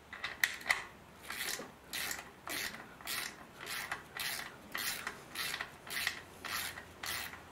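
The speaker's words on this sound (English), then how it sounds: "Gonna refit the bolt." A bolt is threaded back into the oil filter housing of a 2008 VW Touran 1.4 TSI, giving a close, repeated rasping ratchet rhythm of about ten strokes with brief pauses between them.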